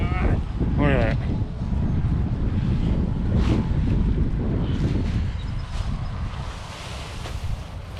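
Strong wind buffets the microphone on an open airfield runway while a banner-towing setup is laid out, a loud continuous roar and rumble with gusts throughout and brief talk near the start.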